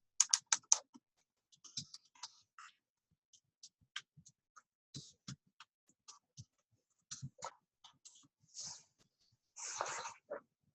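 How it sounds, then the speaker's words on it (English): Typing on a computer keyboard in quiet surroundings, a faint, close scatter of irregular key clicks arriving in short runs and isolated taps, with a slightly louder cluster near the end. "click the publisher box and type the name of the publishing company"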